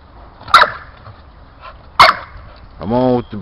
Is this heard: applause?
no